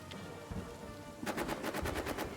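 A quick burst of rapid automatic gunfire rings out in the trench warfare game All Quiet in the Trenches, about ten sharp shots in a row after a stretch of low rumbling background.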